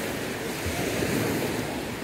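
Sea waves washing onto a sandy beach at Agno, Pangasinan, a steady broad roar of surf mixed with wind buffeting the microphone, no voices.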